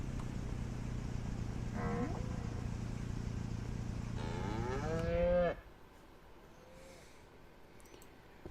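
Cattle mooing in the ranch video game Ranch Sim: several long, drawn-out moos overlap, including a loud close one that swells and ends abruptly, followed by quieter ambient farm sounds.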